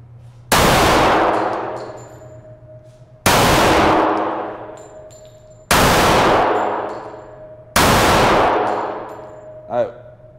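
Four loud pistol shots, each followed by a bright ringing clang off a steel target, spaced about two seconds apart and fired through a competition pistol with a Hex reflex sight, plus a brief metallic ping near the end.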